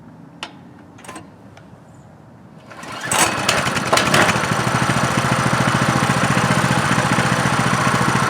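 A Coleman CT200U-EX mini bike's small engine fires up after a few quiet clicks and settles into a loud, steady idle that is close and constant, with no talking.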